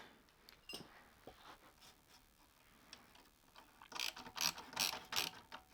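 A ratchet tightens the exhaust band clamp on a Lexmoto LXR380 motorcycle during an install of a Lextek exhaust system. It makes a few quick clicking bursts at close range, with the loudest run of rapid ratcheting near the end.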